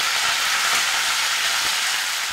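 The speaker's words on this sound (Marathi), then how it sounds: "ती मेथी यात घालून परतून घ्यायची आहे" Fenugreek leaves (methi) sauté in hot oil with a loud, even, close-up sizzle that holds steady and unbroken from start to finish.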